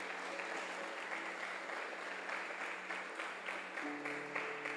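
Church congregation applauding during a sermon, a faint, continuous wash of clapping heard at a distance with a low sustained tone underneath.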